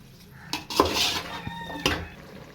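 Vegetables for vegetable biryani stirred in a metal pot, a handful of close clanks and scrapes of a spoon against the pot over a quiet background.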